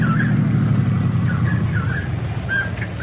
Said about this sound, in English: Oh, hey, I hear a car coming.